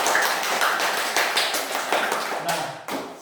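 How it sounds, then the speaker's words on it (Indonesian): A group claps in steady applause for group 1 in a classroom setting, a brisk, dense patter that carries on for a few seconds before tapering off. "tepuk tangan untuk kelompok 1 dulu"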